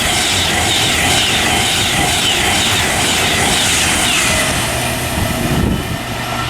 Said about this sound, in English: Passing through now is a Pendolino from Glasgow Central to London Euston